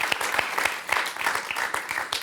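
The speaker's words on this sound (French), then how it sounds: "On peut l'applaudir" A studio audience on a French quiz show applauds a contestant, with loud, close clapping in uneven bursts and distinct sharp hand strikes throughout.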